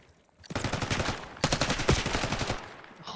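Rapid automatic gunfire rattles in a Call of Duty: Black Ops 6 match, two close, dense bursts of quick shots separated by a short gap, fairly quiet overall.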